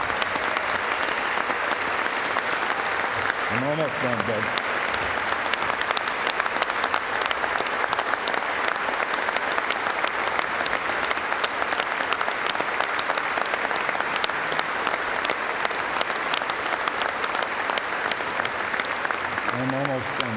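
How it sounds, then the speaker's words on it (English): Long, sustained audience applause at a sports hall of fame induction dinner, loud dense clapping filling the room, with someone briefly speaking over it near the start and again at the end. "If you could give a round of applause"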